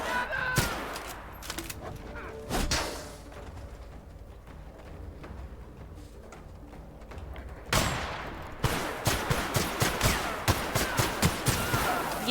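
Gunfire from the video game The Outer Worlds: a few sharp shots early on, then a rapid, evenly spaced volley of shots near the end, over quieter game ambience.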